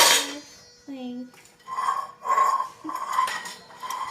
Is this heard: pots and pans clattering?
yes